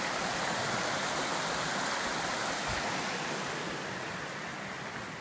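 A river rushing at a trail crossing in the Lake District, steady loud broadband water noise filling the whole stretch with no talk, easing off very slightly toward the end.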